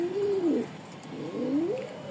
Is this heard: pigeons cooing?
yes